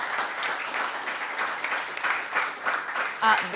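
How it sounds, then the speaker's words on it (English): Conference audience applauding panelists after a session on renewable energy and supply-chain emissions, a steady moderate round of clapping from a room crowd, with a faint voice near the end. "Please, a warm round of applause for our panelists."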